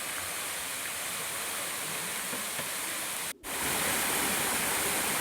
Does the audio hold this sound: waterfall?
yes